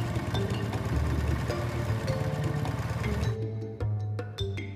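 A motorcycle converted into a village bike taxi with a rear platform idles nearby, its steady low engine rumble running continuously with a few sharper clicks near the end and no talk.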